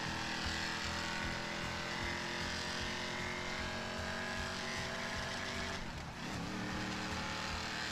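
A car in GTA V accelerates with a steady, loud engine drone that holds nearly unchanged throughout, with a brief dip and rough burst near the end.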